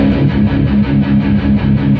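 A distorted electric guitar through a Revv Amplification G3 overdrive pedal plays a chugging, rhythmic riff with a driven, gritty tone, loud and steady throughout.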